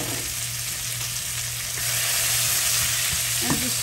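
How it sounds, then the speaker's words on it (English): Cabbage, onions and peppers stir-fried over high heat in a pan, giving a steady close sizzle with faint scraping as the vegetables are moved around, no voices present. "And just stir fry them around in there like that."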